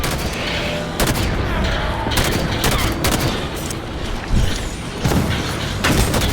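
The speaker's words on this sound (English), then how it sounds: "Getting blown away by this turret right here." Sustained turret gunfire in the video game Halo 5: Guardians, a dense, loud barrage of shots and blasts with sharp impacts recurring roughly every second over a constant roar of combat.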